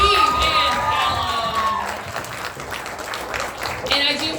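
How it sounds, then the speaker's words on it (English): A cabaret audience claps and cheers loudly, with whoops and excited shouts that ease off mid-way and then swell again near the end. "one more round of applause for Eve and"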